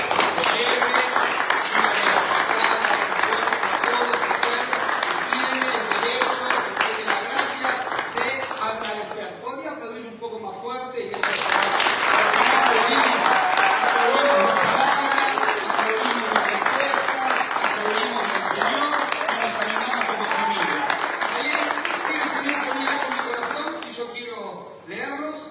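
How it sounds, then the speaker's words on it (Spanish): A church congregation applauding at a Sunday general meeting: loud, sustained crowd clapping that briefly dips near the middle before swelling again, with voices mixed in. "dé un aplauso al Señor"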